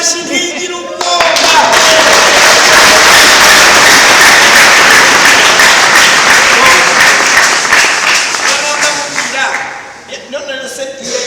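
A church congregation breaks into loud, sustained applause during a sermon, with dense clapping filling most of the stretch before it thins out near the end, and a preacher's voice audible at the start and close.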